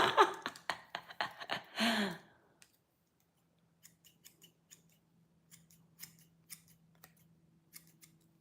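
Scissors cutting hair in a home self-haircut, a string of soft, close snips following an opening burst of loud breathy sound, then quiet.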